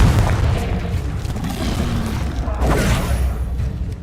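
Confringo blasting spell explosions in the Hogwarts Legacy video game, a loud booming, rumbling blast that fills the whole clip with heavy low-end crackle and a second burst near the end.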